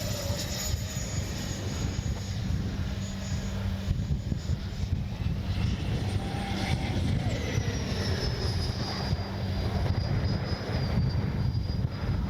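A Freewing Zeus 6S 90mm ducted-fan RC sport jet flies overhead with a steady whooshing roar and a thin high whine that drifts in pitch as it passes, constant and moderately distant throughout.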